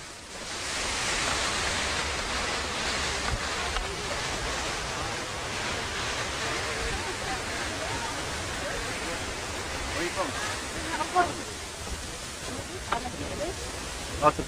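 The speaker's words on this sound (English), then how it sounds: "I can already hear water falling." Harvalem waterfall in Goa gives a steady broad hiss of falling water, heard from a distance along a steep path, with faint voices and scattered small sounds near the end.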